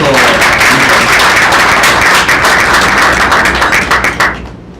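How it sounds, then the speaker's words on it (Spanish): Loud, close applause fills the hall at a Spanish-language medical conference, many hands clapping in a dense burst that holds for about four seconds before dying away abruptly. "un fuerte aplauso yo creo para todos"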